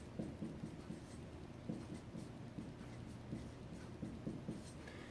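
Pen or marker writing equations by hand during a math lesson solving a system of three equations, a soft scratchy stroking in short repeated bursts over a steady low background hum, no talk.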